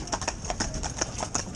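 A pair of Friesian horses in harness, hooves clip-clopping in a quick uneven rhythm of sharp close strikes, the two sets of footfalls overlapping without talk.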